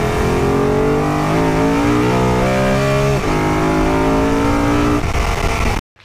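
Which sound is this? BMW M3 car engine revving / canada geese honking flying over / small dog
BMW M3 car engine revving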